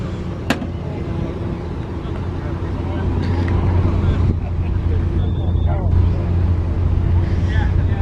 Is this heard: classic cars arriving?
yes